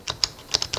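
A computer keyboard connected through a wireless transmitter to a Netia Player set-top box is typed on: five or six light, close key clicks in quick, uneven succession, with no talk.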